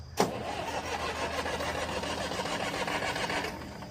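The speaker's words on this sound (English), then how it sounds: "I love this old tractor, dude." An old Massey Ferguson tractor engine cranks and catches with a sharp burst, then settles into a steady close rumbling idle that holds evenly until it eases off near the end.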